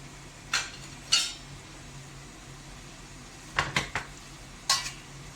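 A spoon scrapes and knocks against a pan while breaking up mutton mince for koftas: a few distinct scraping clacks, spaced apart, over a soft steady background hiss.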